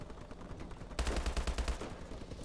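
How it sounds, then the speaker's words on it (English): Gunfire in a Call of Duty Advanced Warfare multiplayer match, where a burst of rapid automatic shots breaks in after a second of quieter game noise and stays loud and close to the end. "I just got a kill with a freaking pistol."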